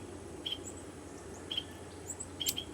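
A small bird calls outdoors, giving short, high chirps in a few scattered bursts, faint and somewhat distant over a low background hum.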